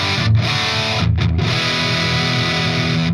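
An electric guitar plays through a Grandmeister Deluxe 40 amp on its lead channel, set for a British overdrive tone with resonance and presence turned up, giving loud, sustained distorted chords with brief pauses between strums.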